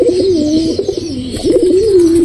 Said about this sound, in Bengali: পায়রিটা অন্য একটা পায়রার সাথে জোড়া নিচ্ছে